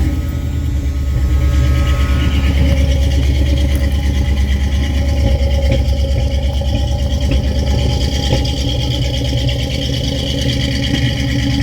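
A 1983 Chevrolet C10 pickup engine with a carburetor not yet tuned right idles loud and close in a steady low rumble with a slight rhythmic pulse.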